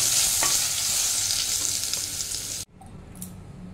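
Salt and turmeric fry in hot oil in a pan and get stirred, as part of cooking ilish fish head with cabbage. A loud, steady sizzle with scraping runs for most of the clip, then cuts off abruptly to a much quieter hiss.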